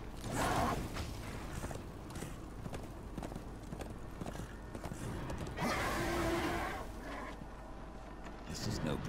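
A horse neighs and clops in the Darksiders 2 video game, its hooves and whinnies sitting among mechanical creaks and swooshes, with a voice talking over it.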